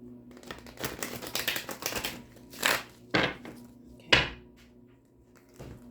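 A Rider-Waite tarot deck is shuffled, first in a dense run of papery riffles and then in three or four separate sharp bursts, close and alone, with no voices.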